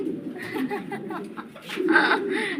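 A pair of Roman pigeons for sale at a farm in Narail coos in a low, continuous, burbling murmur close by, while people talk and chuckle over it.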